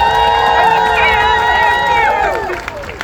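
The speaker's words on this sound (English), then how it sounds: "Let's have a big round of applause for Alex." A crowd at an outdoor rally in Edmonton cheers loudly with sustained, overlapping voices and a little clapping, close and strong, fading slightly near the end.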